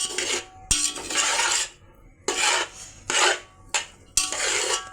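Rice and gravy for paneer dum biryani stirred in a pot, a series of loud scraping, rasping strokes with short pauses between them and no talking.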